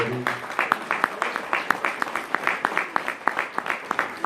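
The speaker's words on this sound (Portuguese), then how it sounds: "Dê um aplauso a Deus" A church congregation claps in a fairly regular rhythm, about four claps per second, moderately loud, with a voice heard briefly at the start.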